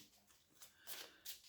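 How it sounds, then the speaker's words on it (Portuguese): Tarot cards shuffled by hand, faint soft rustles and papery swishes arriving in several short bursts, the last two slightly louder, with no talk. "vou ter que baralhar bem"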